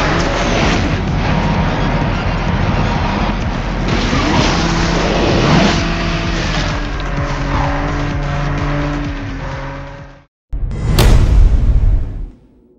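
Cars race in the mobile game Asphalt, with a loud, continuous roar of engines and long tire squeals and skids that shift in pitch, then a brief gap and a sharp whooshing burst near the end.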